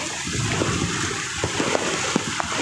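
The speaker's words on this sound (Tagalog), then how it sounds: "Ang lakas ng agos ng tubig." Strong floodwater rushes and churns during Typhoon Carina, a dense, steady roar of flowing water with small splashes and gurgles throughout, close and loud with no talk over it.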